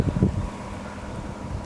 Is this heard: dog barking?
no